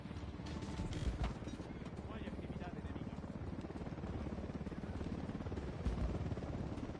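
A helicopter's rotor thumps steadily in a fast, even rhythm throughout, with voices speaking over it.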